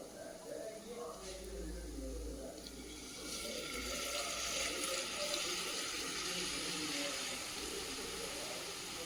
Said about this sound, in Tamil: ஒரு 100 mlக்கு இதில் தண்ணி ஆட் பண்ணிக்கலாம்.